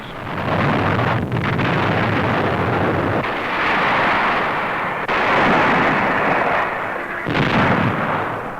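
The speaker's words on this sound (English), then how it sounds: "A phosphorus shell bursts on shore in the midst of the defending Japs" A phosphorus shell bursts on shore during a 1945 Pacific naval bombardment, heard as loud, sustained rumbling blasts with a roaring, wind-like wash over the whole stretch.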